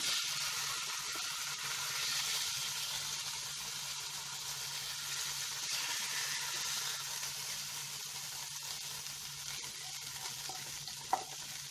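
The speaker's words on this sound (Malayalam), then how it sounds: "മീൻ ഫ്രൈ ആയിട്ടുണ്ട്. ഇനി നമുക്കിത് കോരി മാറ്റാം." Pearl spot fish fries in oil in a pan, a steady soft sizzling hiss lasting several seconds, with one brief clink near the end and no voices.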